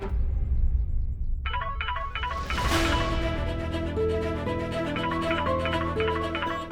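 An electronic phone ringtone plays a repeating melodic pattern after a brief muffled rustle, steady and moderately loud with a low hum underneath.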